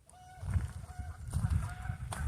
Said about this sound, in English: out there in the water there's a bunch of geese